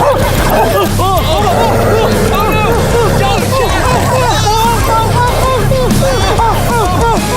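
A dog barks and whimpers rapidly and continuously, loud and close, over a busy background of voices and noise.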